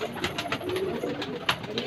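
Kalsira jaaldar pigeons coo softly and repeatedly nearby in a short run of throaty, rhythmic calls.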